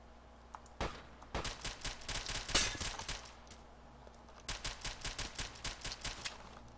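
Bursts of rapid gunfire in a shooter video game, one sharp shot early, then dense volleys in the middle and a steady rhythmic string of shots near the end, loud and without talk.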